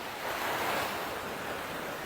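Sea waves washing in with wind, a continuous close surf wash that swells briefly and stays steady, with no voices.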